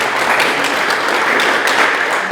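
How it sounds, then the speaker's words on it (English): A meeting audience applauds a speaker with steady, even clapping from a room full of people, moderately loud and continuous for a couple of seconds with no talk over it. "another round of applause for Hannah"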